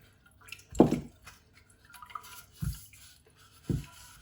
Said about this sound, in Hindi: ये पानी का इसके अंदर ऐड कर देंगे।